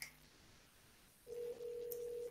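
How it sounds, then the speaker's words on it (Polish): An internal office telephone call rings through as a steady electronic tone that starts partway in, with a short break before it resumes, clear and close with no talking. "Już widzę, że u Krzysztofa dzwoni telefon"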